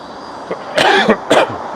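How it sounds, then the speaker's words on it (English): A man walking along a city street in Vancouver coughs twice in quick harsh bursts, close by, over low traffic hum. "Sometimes you can get some stuff caught in your throat and you just gotta cough out."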